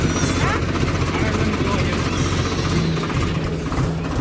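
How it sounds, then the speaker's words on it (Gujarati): A farm tractor engine runs loud and steady throughout, a continuous low rumble with a droning throb, while voices talk over it. "ફાઇનલી ટ્રેક્ટર આવી ગયું છે"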